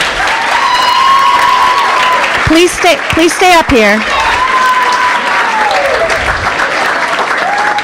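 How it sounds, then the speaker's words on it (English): A banquet crowd applauds basketball cheerleaders at a winter sports event, the loud, steady clapping running the whole length with a few cheers and a voice speaking over it partway through. "Please give them a round of applause."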